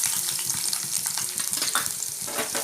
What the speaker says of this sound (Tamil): இப்போ இதில் குட்டி குட்டியாக நறுக்கி வச்சா பூண்டு போட்டுக்கலாம்.